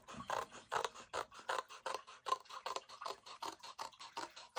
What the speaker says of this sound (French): J'ai pris des tout petits ciseaux.